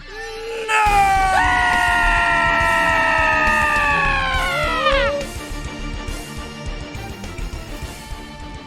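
A goat's long, loud, wavering scream rings out for several seconds, bending downward in pitch before cutting off into quieter background noise.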